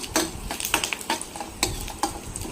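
Dried red chillies and curry leaves sautéing in a pan for a spicy chicken gravy, close crackling sizzle broken by repeated sharp stirring scrapes and clinks of a spoon.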